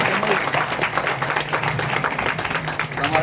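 Loud, dense applause and clapping from a crowd at a devotional gathering, a continuous rattling wash of hands that holds steady throughout with a faint murmur of voices beneath it.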